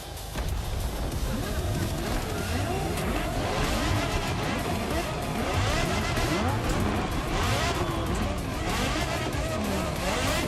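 A Porsche Carrera GT engine roars loudly and continuously in The Crew Motorfest, revving and rising and falling in pitch with faint tire noise, filling the whole stretch.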